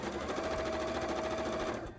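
A sewing machine doing free-motion embroidery on fabric tail frills runs in one continuous fast whirring, rattling burst, close and steady before tapering off at the end.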